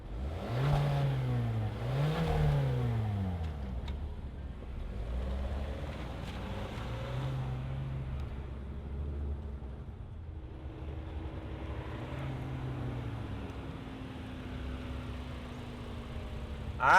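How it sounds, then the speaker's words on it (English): Turbocharged engine of a 2027 Kia Seltos SX subcompact SUV with an 8-speed automatic: a low engine note rises and falls through a few revs, then settles into a steady hum as it moves off, close and moderately quiet. "let's fire it up and see this all-new Seltos roll"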